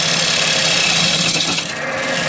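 A wood lathe running during woodturning in a shop, with a steady loud broadband whir and rubbing hiss of the tool on the spinning workpiece, continuous and close, with no talk.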